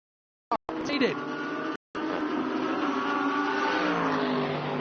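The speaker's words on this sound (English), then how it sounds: "There goes the Mercedes up front." The Uno Racing Mercedes GT3 race car at speed in a China GT3 race, its engine roaring in a sustained, rising note that shifts as it moves past, after a couple of sharp cut-offs near the start.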